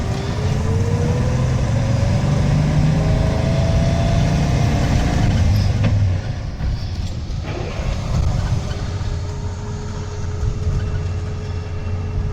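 A squarebody Chevrolet Suburban with four-wheel drive and an NV4500 five-speed manual gearbox drones along in third gear, a loud steady low engine rumble with a rising whine, heard from inside the cab.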